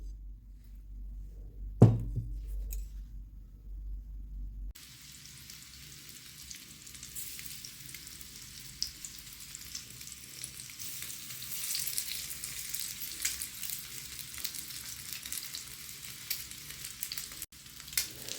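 Egg slices coated in semolina and rice flour shallow-fry in a pan, giving a steady, moderately quiet sizzle with a few soft knocks, after a brief thud and a short stretch of near silence at the start.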